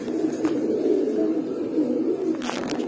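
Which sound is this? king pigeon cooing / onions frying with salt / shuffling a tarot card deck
king pigeon cooing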